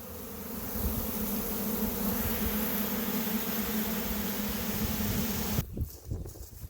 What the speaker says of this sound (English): the bees all decided to come to the bucket